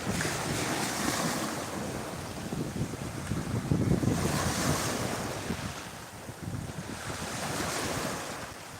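Sea waves rolling onto a beach in Odesa, a steady wash of surf rising and falling in broad swells, with gusty wind buffeting the microphone throughout and no voices.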